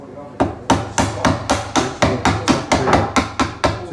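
Hammer tapping a chisel to cut a door hinge recess in wood, a steady series of about a dozen sharp, close knocks at an even pace, with no talking.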